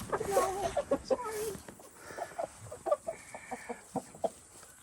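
Chickens clucking in a coop on a Kentucky farm with two roosters among them, a steady run of short nearby clucks and calls at moderate volume.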